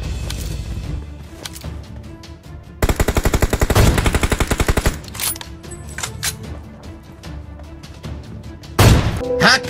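Automatic gunfire in the PUBG Mobile video game: a long rapid burst of shots in the middle, scattered single shots and clicks around it, and another loud burst near the end.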